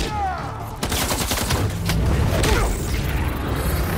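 Armed paparazzi open fire in the video game Marvel's Spider-Man 2, a loud, dense, continuous volley of rapid gunshots with booming impacts that barely lets up from start to finish.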